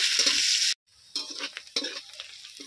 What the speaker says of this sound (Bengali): পেঁয়াজগুলো ভালো করে গোল্ডেন করে ভেজে নেব।